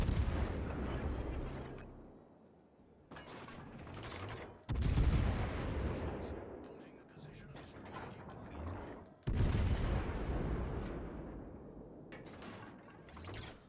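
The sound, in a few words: warship guns firing, World of Warships: Legends video game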